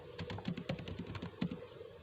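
Typing on a computer keyboard, a quick steady run of close, soft key clicks over a low background hum, with no talking.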